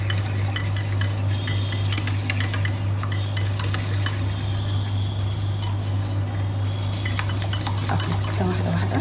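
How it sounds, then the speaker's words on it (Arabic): A chocolate and butter batter with eggs is mixed by hand in a bowl for molten lava cake. Quick repeated clinks and scrapes of a utensil sound close over a steady low electrical hum. "اخلط كده واحده واحده"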